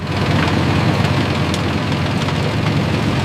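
A sugarcane harvester cutting cane at the root and chopping it into short pieces, a loud, dense mechanical roar with a low throbbing engine underneath and a steady clattering texture, unbroken for a few seconds.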